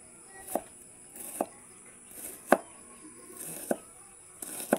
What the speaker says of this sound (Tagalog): Slice natin ang sibuyas.